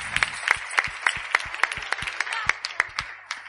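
An audience claps along in a steady rhythmic beat during a lively Spanish talk, the even claps continuing for several seconds under a little background voice.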